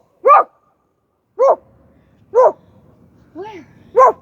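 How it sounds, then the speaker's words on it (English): A dog barks five times in short, evenly spaced barks, fairly close and loud, with faint background noise between them. "There's actually a dog."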